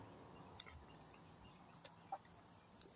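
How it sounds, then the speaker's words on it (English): Chickens cluck softly at a distance over a steady outdoor background, with a few sharp, brief calls popping out now and then. "Then we can say goodbye to the chickies."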